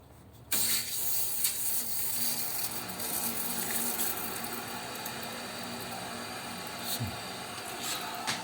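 Water is forced under pressure through a cleaned combi boiler heat exchanger, starting abruptly as a loud, sustained rushing hiss with a few brief knocks and faint talk.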